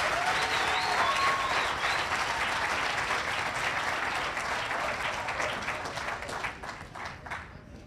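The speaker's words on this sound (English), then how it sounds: "how about one more round of applause for all these scholarship winners?" A school audience at a high school literacy celebration applauds scholarship winners, dense sustained clapping from many hands that stays loud throughout and thins slightly toward the end, with a few faint voices mixed in.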